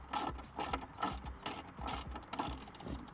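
A ratchet loosens screws on the dashboard of a 2016 Ford F150, with rapid pawl clicking in regular back-and-forth strokes, close and crisp with no voices.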